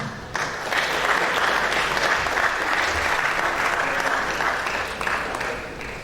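Sustained applause from an audience at a university estate management alumni reunion, many hands clapping in a thick, even wash that swells after a brief start and holds steady to the end.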